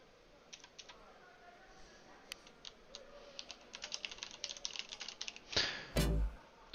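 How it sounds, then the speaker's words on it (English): Rapid typing on a computer keyboard, a close run of light clicky keystrokes that quickens into a dense flurry, ending with a couple of louder thumps as voices talk nearby. "Oh, he's typing."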